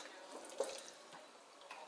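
About half a cup of water is poured onto a diaper, producing a soft, steady splashing pour that stays faint and close, with a small spike near the start.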